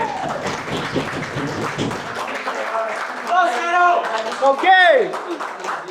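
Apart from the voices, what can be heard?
crowd applause at a rap battle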